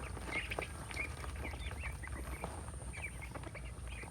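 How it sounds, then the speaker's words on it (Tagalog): Ducks on a small low-budget farm eating and quacking, faint scattered quacks over a steady low background noise. "Napakalakas po kumain ng mga itik."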